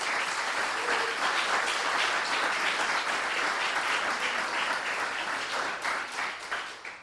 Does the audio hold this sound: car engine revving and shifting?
no